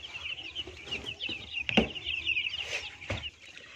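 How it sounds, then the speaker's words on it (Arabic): Chickens cluck busily in a close, continuous chorus as they peck at freshly set-out feed in a farmyard, with ducks and quail nearby; a couple of sharp knocks break through. "احنا حطينا اهوت للفراخ تاكل، ما شاء الله كلها هتبدا تاكل"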